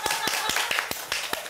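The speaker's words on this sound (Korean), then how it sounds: "박수 한번 주세요." A few people clap close by, with distinct, crisp hand claps in a quick, slightly uneven rhythm during a casual indoor gathering where dumplings are being eaten.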